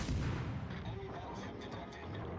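Heavy naval gun salvos boom from a warship in a naval battle video game, with a deep, rumbling blast at the start fading into a long, dull roar.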